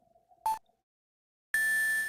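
Electronic beep from the Phoenix Wright: Ace Attorney – Trials & Tribulations game: a brief bright tone blip, a short pause, then a loud sustained beep that holds to the end.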